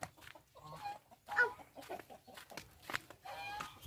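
Chickens cluck and squawk in short, irregular bursts nearby, with occasional higher calls over a quiet farmyard background.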